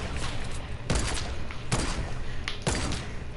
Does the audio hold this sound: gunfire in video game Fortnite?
yes